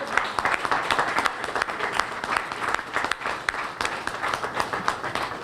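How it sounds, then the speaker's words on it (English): A crowd applauds children on stage at the opening of the 33rd ICVR Kingfest, with dense, sustained clapping that holds steady throughout. "if you all would give them a special applause"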